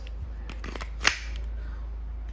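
A tan Umarex Glock 19X gas blowback airsoft pistol loaded with steel BBs fires a few sharp, snappy cracks in quick succession, the last one loudest, close up with no speech.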